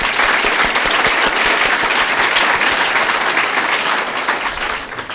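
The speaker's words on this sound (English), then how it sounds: "Give a clap to yourself." A large audience claps at a motivational talk, a loud sustained burst of many hands close by that holds steady and fades slightly toward the end.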